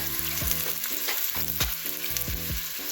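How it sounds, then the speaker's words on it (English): Crushed garlic and onion fry in hot oil as the base for coconut rice, a steady bright sizzle with a rhythmic pulse running under it, close and loud, with no voices. "I've added some garlic, crushed garlic and onion, and it's frying for the coconut rice"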